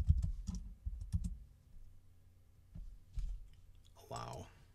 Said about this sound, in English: So now I'm going to type in Google.